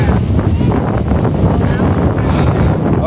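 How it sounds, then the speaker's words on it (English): Strong wind gusting at Quintana Beach, a steady loud roar and rumble buffeting the microphone throughout with no letup. "the wind is crazy"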